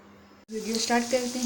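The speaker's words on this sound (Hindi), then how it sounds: "इसमें हाफ कप तेल डाल के मैंने इसको ब्राउन कर रही हूँ।" Onions browning in half a cup of oil for Lahori-style chickpeas: after a brief quiet moment, a close, steady sizzle rises and holds, with some light crackle.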